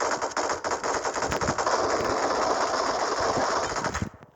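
Rapid automatic gunfire from PUBG Mobile game combat rattles in sustained bursts throughout, dense and fairly loud, cutting off abruptly at the end.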